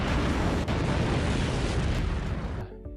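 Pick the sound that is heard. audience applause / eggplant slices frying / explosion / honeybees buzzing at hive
explosion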